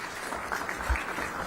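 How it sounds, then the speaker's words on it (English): Brief burst of audience applause at an aerospace manufacturing conference in Visakhapatnam, a dense crowd of clapping hands heard in a large room. "Round of applause, please."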